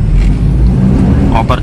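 A car's engine revs and pulls away in first gear on a roadside, a steady low rumble close by with voices in the background.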